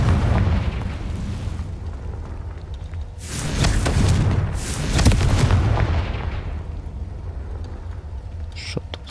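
A Confringo spell goes off in a Hogwarts video game, setting off two heavy, booming blasts close together over a low rumbling background, followed by a brief bright magical chime.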